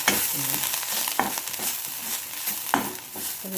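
Dry prawns fry in a little oil, a steady crackling hiss broken by a few sharp scraping stirs and brief clatters, close and moderately loud with no voices.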